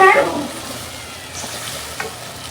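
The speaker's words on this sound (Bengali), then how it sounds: "মশলাটা কিন্তু কষানো হয়ে গেছে, এখন দিয়ে দিলাম মাছগুলো।" Fish pieces drop into hot, already-fried spice paste in a home kitchen pan, giving a loud sizzling burst at the start that settles into a steady, quieter crackle of frying.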